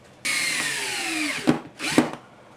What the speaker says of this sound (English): use a 1 1/4 inch screw and screw it in.